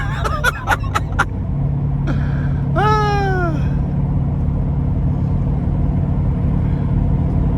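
An 850 HP Procharged C7 Corvette Z51 3LT pulls in fifth gear with a loud, steady engine drone and road roar that holds level throughout, broken briefly by a few sharp clicks and a short whining sweep near the start.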